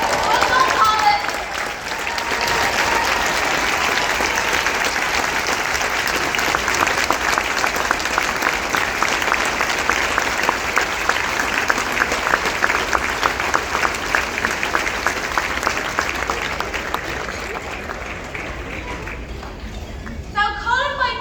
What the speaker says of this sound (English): Please, I'd like everyone to stand up and clap and show our appreciation for everything that you do.